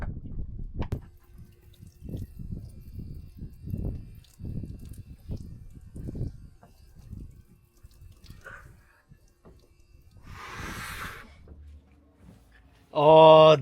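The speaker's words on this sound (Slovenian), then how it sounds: "Evo, zdaj pa še hitro en večerni tuš." Water from an evening shower runs steadily with soft splashing and dripping, then a brief hiss follows and a short burst of someone talking closes the clip.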